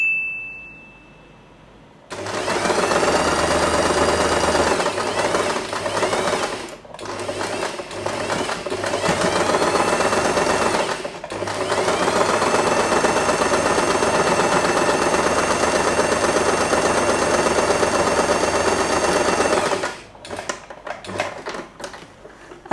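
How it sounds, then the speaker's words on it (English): Sewing machine stitching through folded scrap fabric for a bow, a loud close motor hum running almost continuously with a few brief pauses and restarts, with no talk. "And we are going to sew this part."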